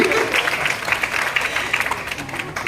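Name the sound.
audience applause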